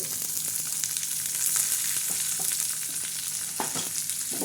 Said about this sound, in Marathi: आता हे असे चांगले आपण हलवून देणार आहोत आता आपण चांगले हलवून घेणार आहोत टमाटे टाकले कांदा टाकला